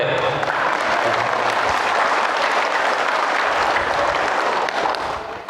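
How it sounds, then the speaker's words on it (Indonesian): A mosque audience applauds steadily and loudly for several seconds during a religious study gathering, a dense continuous clatter that tapers slightly at the end. "Tepuk tangan dulu untuk Pak RT."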